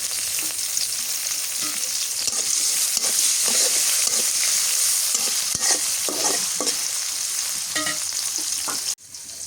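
Green chilies and onions fry in hot oil, giving a steady, loud broadband sizzle with scattered stirring clicks throughout and a brief drop near the end, with no talking.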